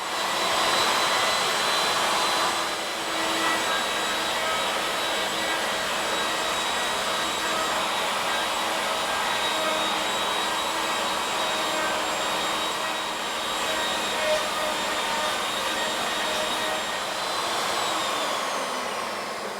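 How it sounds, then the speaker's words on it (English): A lathe turns a wooden bowl slowly against a high-speed cutting head, producing a steady, loud, continuous high whine with a broad airy hiss that holds unbroken for nearly twenty seconds before the pitch drops slightly near the end. "So a high-speed tool against a slow spinning piece of wood."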